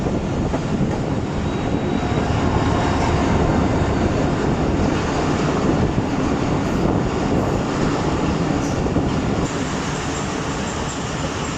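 Fareed Express passenger train rolling into a railway station on the Lahore–Karachi route, a steady loud broadband rumble and roar throughout with no clear breaks, heard from on or near the train.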